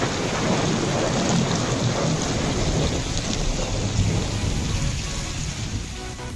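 Heavy rain and a thunderstorm at the Bangladesh Marine Academy, with a dense, steady roar of rainfall and low rumbling thunder running throughout, no voices.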